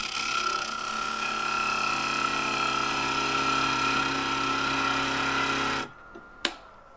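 A wood lathe spins a myrtle bowl blank, giving a steady loud mechanical whine with a cutting hiss throughout. It stops abruptly near the end, followed by quiet and a single sharp knock.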